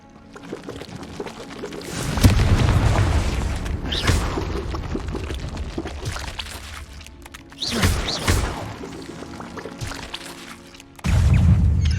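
Fire-spell blasts boom in the Hogwarts Legacy video game, one long rumbling burst and then two more heavy booms later, loud and near under some game sound.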